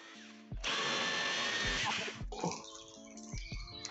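A power drill boring holes during a racing simulator build, a loud whirring burst of about a second and a half followed by shorter stuttering runs of the motor, close up.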